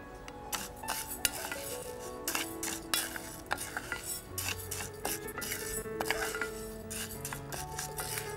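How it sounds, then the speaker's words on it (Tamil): Seeds dry-roasting in a pan without oil, stirred steadily: soft scraping and rattling of the spatula against the metal, with small irregular clicks and taps, fairly quiet and close. "முதல்ல நாம் இந்த பாப்பாரை விதையை வறுத்துக்க போகிறோம்."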